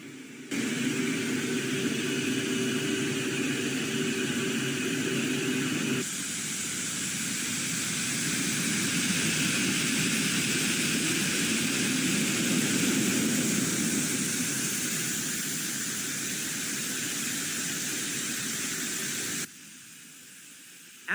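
A pet dryer blower motor runs with a steady, loud broadband whoosh of forced air, its tone shifting slightly partway through before cutting off near the end.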